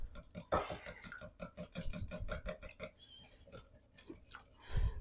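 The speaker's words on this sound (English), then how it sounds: "Get my little whisk and then just whisk that up" A small whisk beats custard in a bowl with quick, steady rhythmic strokes that scrape close and clear. A short pause follows, then a few lighter taps.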